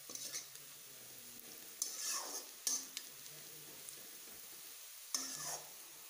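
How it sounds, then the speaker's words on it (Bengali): Onions are stirred and fried until brown for a country chicken curry, a faint sizzle broken by several scraping strokes of a spatula against the pan, spaced irregularly. "এখন আমি পেঁয়াজগুলোকে ভালোভাবে নেড়ে চেড়ে ব্রাউন কালার করে নেব।"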